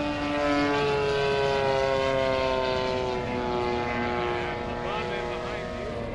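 A 35cc petrol Extra 260 RC model plane, 78-inch span, flies a level pass with a steady, loud engine drone whose pitch glides slightly as it passes, continuous throughout with no talk over it.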